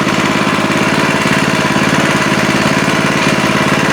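A small Kawasaki engine runs at a steady idle close by, its rapid, even, loud chugging continuous throughout.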